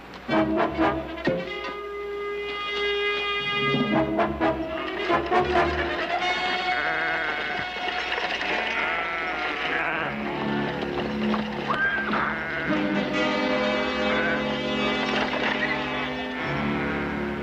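Sheep bleat repeatedly in a 1960s Western TV series scene, several animals calling over one another in a loud, continuous chorus.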